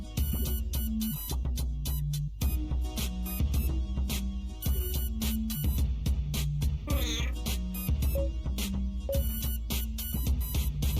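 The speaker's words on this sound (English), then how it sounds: "You've befriended the local cat." A game cat in Kaiju Big Battel: Fighto Fantasy, with a brief synthetic meow-like chirp sounding over looping chiptune music that plays steadily throughout.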